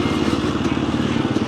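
A dirt bike engine runs steadily at the Croom Motorcycle Area riding spot in Florida, a continuous close droning rumble that holds level throughout with no clear gaps.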